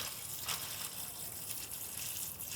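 Water pours into the bottom of a plant box, a steady soft gushing splash that runs without a break, fairly quiet and close, with no talking.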